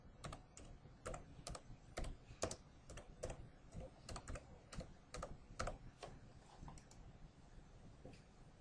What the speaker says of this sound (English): I can just type in with capital letters